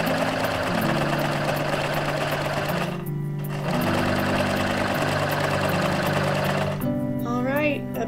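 A sewing machine stitches fabric for a winter cape, running in steady mechanical bursts with a brief pause partway through, and a voice speaks near the end.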